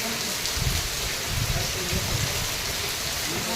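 Steady, heavy rain pours continuously, a dense hiss with a low rumble beneath and no pauses.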